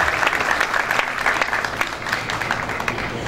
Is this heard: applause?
yes